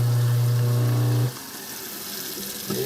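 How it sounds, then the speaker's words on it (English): A kitchen sink food waste disposal in a 1970s Dallas townhouse runs with a loud, steady low hum that cuts off abruptly just over a second in, followed by gurgling water and quieter room sounds. "That's the wet bar, kitchen sink, food waste disposal"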